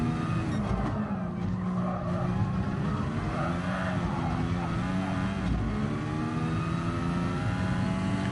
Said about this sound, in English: Well, at least I have angry Honda noise.